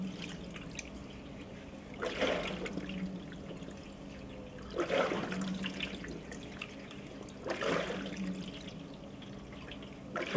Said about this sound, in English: you see the more water moving through the blanket